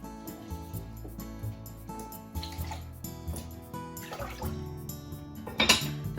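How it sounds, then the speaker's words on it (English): Water pours and trickles into a pot of rice amid clinks of cookware, with a brief louder splash near the end. "I'm adding 3 cups of water."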